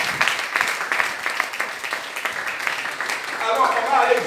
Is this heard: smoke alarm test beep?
no